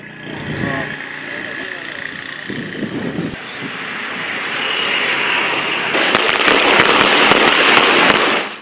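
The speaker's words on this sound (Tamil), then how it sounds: "அமைச்சர் சஜித் பிரேமதாசவின் ஆதரவாளர்களினால் வெடியும் கொளுத்தப்பட்டது" Supporters set off firecrackers at a religious gathering in Jaffna, a dense crackling barrage that swells and grows louder toward the end, with a voice speaking over the start.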